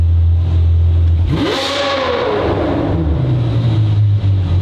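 Ferrari V12 with a Gintani tune revs hard once, the engine note sweeping up sharply then falling back to a steady idle rumble, loud and close with no talking.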